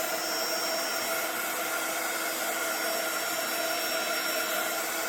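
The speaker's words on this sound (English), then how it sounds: "So use my heat gun to melt the embossing powder." A heat gun blows steadily to melt embossing powder, giving a constant close hiss-like whir with no breaks.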